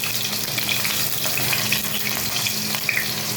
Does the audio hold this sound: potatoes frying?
yes